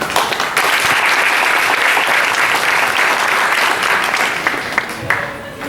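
Audience at a school diploma and certificate ceremony applauds in a dense, sustained wash of clapping that fades slightly at the end.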